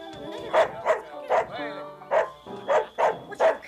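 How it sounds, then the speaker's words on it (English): A dog barks in a rapid run of about eight loud, close woofs and yelps with a short whimpering gap in the middle, set in a home scene. "That dog."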